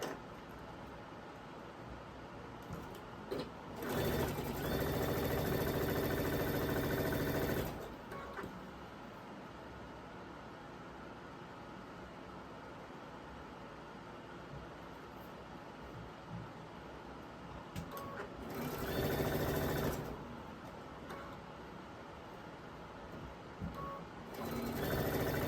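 A sewing machine stitching floral and white fabric into quilt half-square triangles, with a few short bursts of rapid whirring stitching over a quiet, hissy room.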